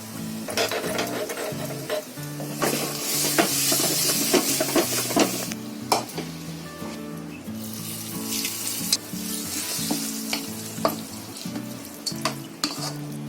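Urad dal, sesame seeds and chilli powder fry in a little ghee for a ridge gourd bharta, crackling and sizzling steadily up close, with sharp pops and stirring clatter, no talk.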